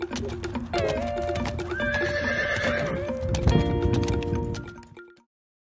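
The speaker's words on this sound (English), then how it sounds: "Horse." A horse whinnies loudly and clearly while hooves clip-clop close by, the neigh rising and falling over the steady hoof beats before everything cuts to silence.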